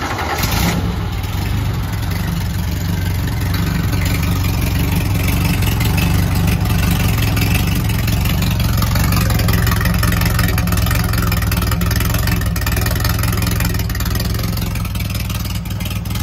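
A car engine turned over and left running cold after the gas pedal is pumped a couple of times, roaring loud and close in a steady, rough drone for the full length with no talk over it.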